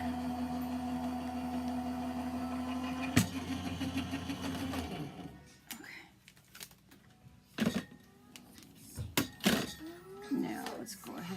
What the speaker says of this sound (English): The machine will run it through and then you pick it up right here in the back.